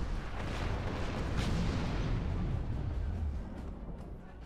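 Sustained heavy artillery barrage in the Star Trek Online space combat game, a dense continuous roar of booming fire and rumbling blasts, loud and steady throughout with no talking.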